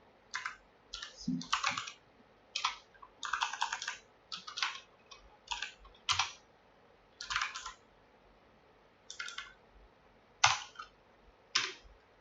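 Bursts of keyboard typing come in short irregular runs of clicky keystrokes with brief pauses between, close and fairly clear against a quiet background.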